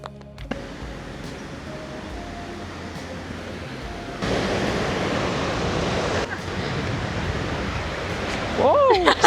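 Steady broadband rush of a blue river flowing outdoors in San Luis Potosí, Mexico, constant and fairly close, swelling louder midway, with a brief high whistle-like sound near the end.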